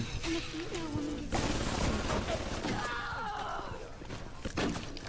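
Automated gun turret in BioShock firing in bursts, sharp cracks and thuds scattered over a busy game background with groaning and shattering noises.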